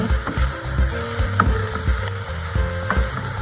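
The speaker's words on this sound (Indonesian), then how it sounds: "Kita masak teman-teman sampai benar-benar dia matang dan juga harum." Tofu filling stir-fried in a pan until cooked, with a steady loud sizzle under rhythmic scraping and tapping of the spatula against the pan, repeated about twice a second.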